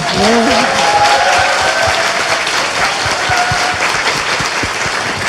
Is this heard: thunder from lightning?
no